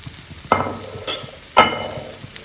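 Paneer is being stir-fried in a hot pan. Two distinct scraping stirs punctuate a steady low sizzle, close and clear, with no one speaking.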